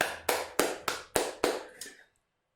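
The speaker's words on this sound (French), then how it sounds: "On l'applaudit, hein." Several slow, evenly spaced handclaps, about six sharp claps, ring out for a guest named Clafoutis at a live Halloween storytelling show, then fade to silence; no one speaks.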